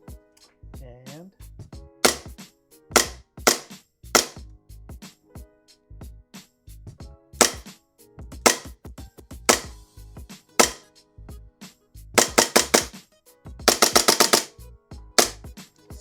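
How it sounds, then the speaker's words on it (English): An airsoft Hi-Capa pistol is dry fired several times, each shot a sharp mechanical snap of the slide, some fired in quick bursts. Talk is heard between the shots. "let me show you guys this thing dry firing real quick"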